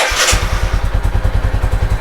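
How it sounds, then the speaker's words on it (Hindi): A motorcycle engine catches on the first press of its electric self-starter after a carburetor mileage adjustment, a brief starter whir giving way to a loud, close, rapid, even idle thump. "बाइक देखो एक सेल्फ में स्टार्ट हो रहा है"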